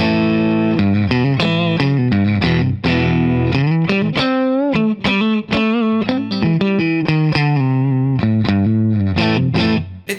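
Cheap SAYHA Stratocaster copy electric guitar on the middle-and-neck pickup setting, played through distortion and chorus effects, loud sustained chords and single notes ringing in a steady strummed phrase with no voices.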